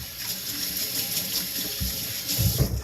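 Tap water running steadily over a freshly cleaned trout in a sink, a close continuous splashing rush with some louder gushes near the end.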